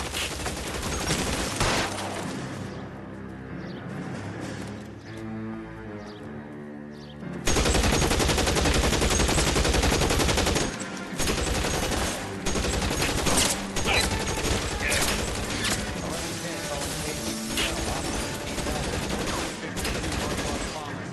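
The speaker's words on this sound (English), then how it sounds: "Shots fired and officers need help at 1452 North Las Palmas." Gunfire in the L.A. Noire video game, a 1940s Los Angeles police shootout: dense, continuous automatic fire and loud shots roar over a tonal backing, following a quieter musical opening.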